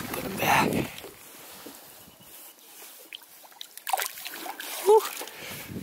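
A rainbow trout is released back into the water on a fishing outing, giving a brief splash at the start followed by smaller sloshes and water movement, with faint background noise.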